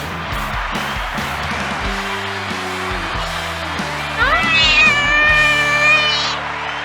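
A cat meows in a high, drawn-out call over a background music track, rising loud near the end after a stretch of music and voices.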